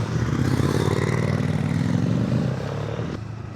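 Motorcycle engine droning close and steady on an open road during a group ride to a café, with whirring and clattering road noise, easing off slightly near the end.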